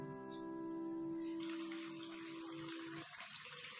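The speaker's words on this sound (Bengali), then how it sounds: "এবার এর মধ্যে জল দিয়ে দেব" Water is poured into fried masala in a cooking pan for a Bengali parshe fish curry, a short steady gush that swells brightly partway through and runs on without talk.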